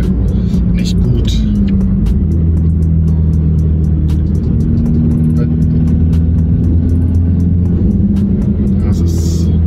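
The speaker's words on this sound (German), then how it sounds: "das ist halt so ein richtiges Klackern im Motorraum" A car engine hums steadily in its bay while a fault produces a run of sharp, repeated clacks on top of the low rumble, with a voice talking over it.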